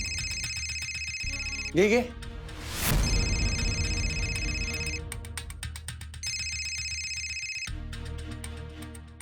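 A telephone ringtone plays in repeated bursts of steady high-pitched tones during a domestic TV drama scene, loud and close, with brief dramatic music swells and a spoken word partway through.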